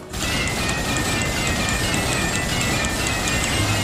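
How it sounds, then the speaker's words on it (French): Gunfire in Time Crisis 4 strikes metal, each bullet ringing out a different musical note, a loud rapid mechanical clatter with clear pitched tones repeating over a steady dense rattle. "Chaque balle fait une note différente."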